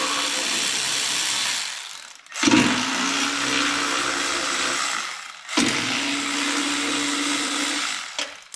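A power ratchet whirs in two long, loud bursts separated by short pauses as it loosens 13 mm bolts on a snowblower panel.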